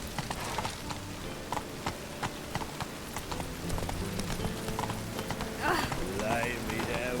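A horse gallops in The Witcher 3 with quick, rhythmic hoofbeats that are close and steady. A short voice or whinny rises near the end.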